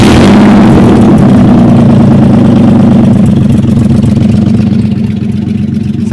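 A BMW E36 engine idles loud and steady close by while warming up, a deep continuous rumble that holds throughout with no talking.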